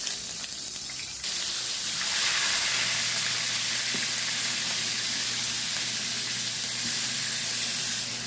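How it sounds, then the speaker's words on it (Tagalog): Pork hock sizzles in hot oil in a pan: a loud, steady, close frying hiss with a faint low hum underneath, and no talking. "Ngayon po, ipiprito ko na siya."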